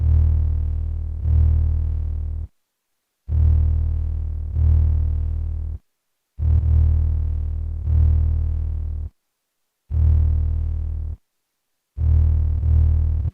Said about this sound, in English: instead sounded a little more like a subby, synthy bass